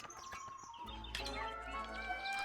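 Fancy caged birds in the puzzle game Tangle Tower chirp in quick, bright tweets over a low hum, with brief layered calls that sound close and clear.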